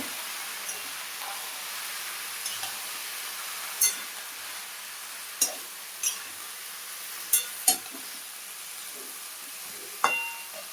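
Katla fish roe curry with onion and potatoes sizzles softly in a pan while a spoon stirs it. Scattered scrapes and light knocks break through a quiet, steady frying hiss.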